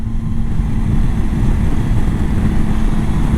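A motorcycle pulls hard in fifth gear for overtaking, its engine a loud, steady low drone smothered in heavy wind rush from riding at speed, with no talk.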